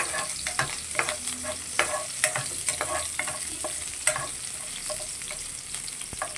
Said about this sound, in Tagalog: Haluin ulit.